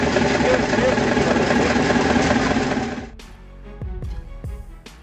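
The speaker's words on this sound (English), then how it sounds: "this massive Fairbanks Morse engine was successfully started" A massive vintage Fairbanks Morse engine runs at the 2009 Pottsville Tractor and Engine Show with a loud, dense, steady churning roar that cuts off abruptly partway through, leaving quieter clanks and thumps.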